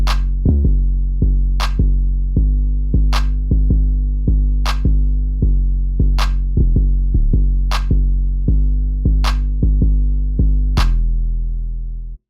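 FL Studio trap beat with booming 808 bass notes and a sharp clap landing at the same spot in each bar, loud and steady with regular rhythmic hits over roughly twelve seconds, ending abruptly.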